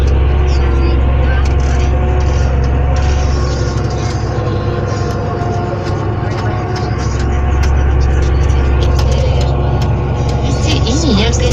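A Fendt 936 tractor engine runs with a steady, loud, low rumble throughout, with voices talking over it.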